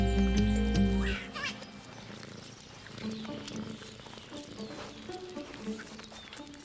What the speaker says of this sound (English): Banded mongoose.